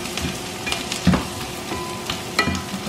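Tomato and onion sauté together in a pan for a sarsiado fish dish, giving a close, steady sizzle broken by a few soft stirring scrapes.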